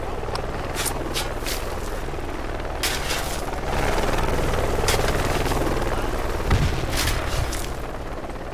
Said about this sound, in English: Alright, we're coming in with the chopper.